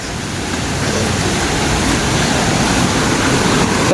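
Dampalit Falls in Los Baños, Laguna, with water rushing in a loud, steady roar that stays constant throughout and has no voices over it.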